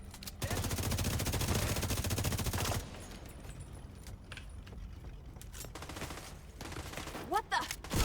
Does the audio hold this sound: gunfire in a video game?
yes